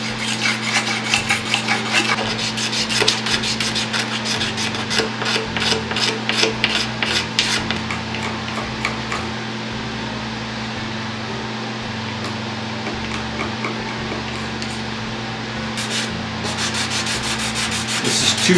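Rapid back-and-forth scratching of 240 grit sandpaper rubbed by hand across a wooden guitar fretboard, close and continuous, over a steady background hum.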